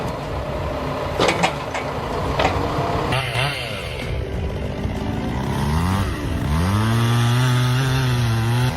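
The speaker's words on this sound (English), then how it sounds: "The roar of the chainsaw tore through the silence." Large chainsaw cutting into a giant tree trunk during winter logging, its loud engine roar rising and falling in pitch as it bites into the wood, steady and close with a few sharp clanks early on.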